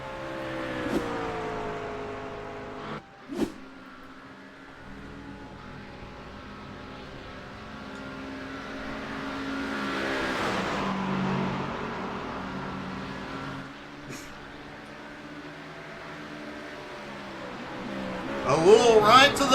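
GT3 race cars at Imola in a racing video game, engines droning and rising in pitch as the cars accelerate, a steady close motor whine under commentary voices, with brief sharp knocks and a louder surge at the end.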